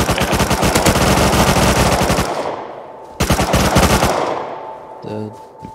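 Rapid automatic gunfire in the video game Rust, loud and close, with sustained bursts broken by a short pause before another long volley that fades out.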